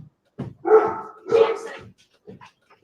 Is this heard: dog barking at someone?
yes